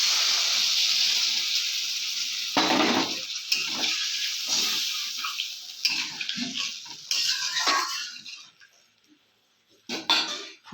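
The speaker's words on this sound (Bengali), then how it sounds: "এখন পরিমাণ মতন জল দিয়ে দেবো।" Water poured into a pan of fish curry after its spices are sautéed sets off a loud hissing steam burst, then bubbling and sputtering that gradually fades.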